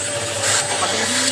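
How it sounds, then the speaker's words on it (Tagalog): A Polti steam vacuum cleaner runs steadily while cleaning a corner, a loud close motor whine with a constant hum and airy rush and no breaks. "Steaming mo lang siya at the same time i-vacuum mo siya."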